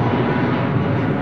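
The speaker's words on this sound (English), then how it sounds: "That was one long aeroplane" An airplane departs London Heathrow runway 09R with a loud, steady broadband engine roar filling the whole clip, close and unbroken.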